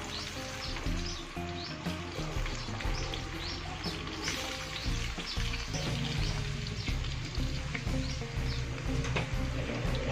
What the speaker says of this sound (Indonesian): Kita akan menggoreng kentangnya yang dipotong seperti dadu dengan berat tadi 500 gram